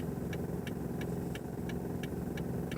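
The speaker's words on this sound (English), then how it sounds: "my car sounds bad" A driver's own car running rough with a fault: a low, steady engine rumble carries a regular light ticking, about three clicks a second, continuous and close.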